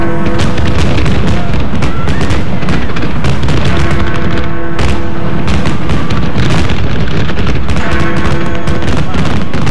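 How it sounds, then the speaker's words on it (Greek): New Year 2006 fireworks over the Thames in London, a dense continuous barrage of booms and crackling bursts, very loud and sustained throughout with crowd noise beneath. "εντυπωσιακά πυροτεχνήματα πάνω από τον Τάμεση"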